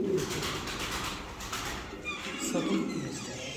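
Soft, rhythmic cooing from a male pigeon in a bird-breeding loft, repeated a few times at close range against a faint background of rustling and room noise.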